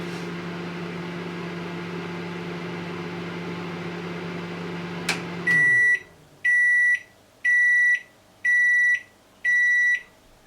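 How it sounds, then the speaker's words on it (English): A humming appliance stops with a click, then five evenly spaced electronic beeps ring out loud and clear in a steady rhythm. "So you get 5 beeps there to let you know that your food's done."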